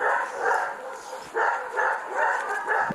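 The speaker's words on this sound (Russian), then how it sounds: "Эта испуганная дворняга под номером 666 совсем недавно перенесла операцию." A frightened mongrel at an animal shelter barks in short repeated bursts, fairly close and steady, with faint background noise.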